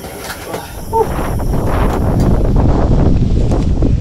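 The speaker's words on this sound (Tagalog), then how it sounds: "Sobrang lakas po ng hangin ngayon." Strong wind roars and buffets the microphone in a loud, continuous rush with gusty low rumble, no voices present.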